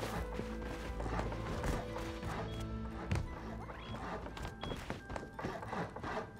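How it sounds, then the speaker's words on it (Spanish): Horse hooves galloping in the survival video game Rust, a steady run of thudding, clip-clopping beats over dense background game noise, loud and close with a sharper thump near the middle. "¿Tú sabes cómo corre el caballo este?"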